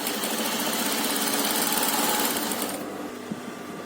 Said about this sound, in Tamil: இப்போ இதை இந்த மாதிரி ஃபோல்டு பண்ணி ஒரு 1/4 இன்ச்சில் நீட்டாக ஒரு தையல் போட்டுக்கலாம்.